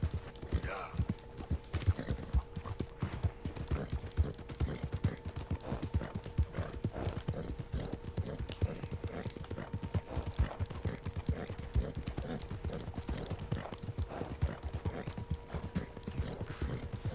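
Continuous rhythmic clip-clop of horse hooves at a steady trot in the video game Red Dead Redemption 2, with a faint tonal hum running underneath.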